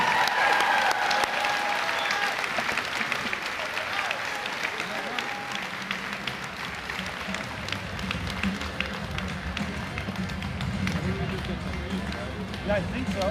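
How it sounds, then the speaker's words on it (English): Sustained applause from the crowd at a high school graduation ceremony for the class of 2025, a dense wash of clapping that carries on steadily with scattered cheers and voices mixed in. "last round of applause"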